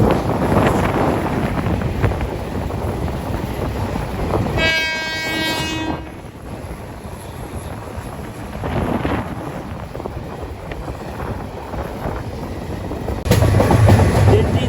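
The Meghna Express rumbles along the tracks between Chandpur and Chittagong, a loud steady rolling roar with wind buffeting, a brief horn blast partway through and a rising surge of noise near the end.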